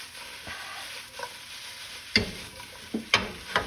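Potatoes and onions frying in a pan, with a low continuous sizzle and several sharp spatula scrapes and clacks as the food is stirred and flipped, close and fairly loud, no voices.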